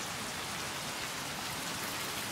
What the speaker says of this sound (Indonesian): Hujan, Pak.